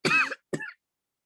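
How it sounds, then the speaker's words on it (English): A lecturer coughs twice in a classroom, two short, close, fairly loud bursts a moment apart with silence after. "I'm sorry, I keep coughing."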